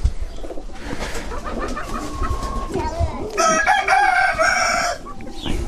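A rooster crows loudly and close by, its strained, harmonic call stretching over a couple of seconds amid other farmyard bird noise.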